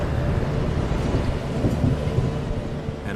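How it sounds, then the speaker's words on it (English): Low rumbling thunder rolls beneath a steady hiss of rain and wind, continuous and fairly loud. "An approaching downpour threatens to grow into a lightning storm."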